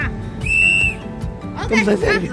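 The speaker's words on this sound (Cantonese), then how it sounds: "吹雞" A whistle blown to signal the start of a hike, one clear, loud, sustained shrill blast close by, followed by voices talking.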